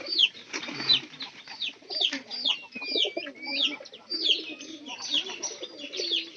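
Pigeons coo repeatedly in soft, rolling throaty phrases, close by and fairly steady, with a few chirps mixed in and no talking over them.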